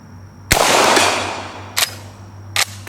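Three separate gunshots from an old-West style firearm fired at a gong. A loud, close first shot rings out with a long decaying tail, and two shorter, quieter reports follow about a second apart.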